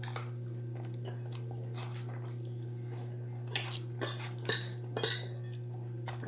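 Cutlery clinks against a plate during a dinner of rice and skewered meat, with a few sharp taps and scrapes clustered toward the end over a steady background hum, alongside faint chewing.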